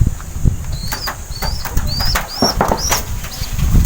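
Dirty blue bar pigeons flap their wings in a loft, a busy close flutter of wingbeats mixed with short squeaky calls repeating about every half second, loud and with no talking.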